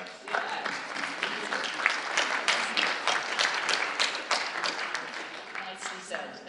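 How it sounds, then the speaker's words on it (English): An audience at a London Business School talk breaks into a round of applause, lively overlapping claps at moderate distance that continue steadily and begin to taper toward the end. "Let's give them a round of applause."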